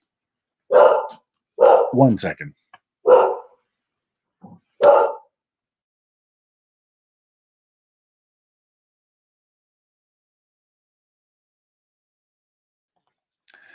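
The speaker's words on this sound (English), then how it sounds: "sorry, my dogs are barking" Dogs bark indoors in a handful of sharp, close bursts over about four seconds, then quiet follows; a voice briefly speaks among the barks.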